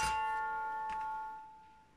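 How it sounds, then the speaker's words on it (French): A single electronic chime from a Friedland 433 MHz wireless doorbell rings out clearly, its pure tone sustaining and slowly fading away in an otherwise quiet room. "Je vais activer la sonnette"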